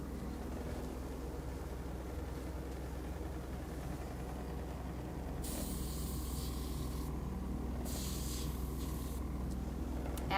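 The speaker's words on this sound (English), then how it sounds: "the closer you get when you do airbrush, you do fine lines" Airbrush used for creative dog grooming colour gives a steady low hiss throughout, with two brighter bursts of spray near the end, close and continuous without speech.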